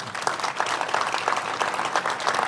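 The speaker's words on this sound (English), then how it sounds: "A round of applause for these guys." Crowd applause at an outdoor statue ceremony outside a baseball park, honoring a Mariners legend: steady, dense clapping from a large gathering, sustained and fairly loud throughout with no voices standing out.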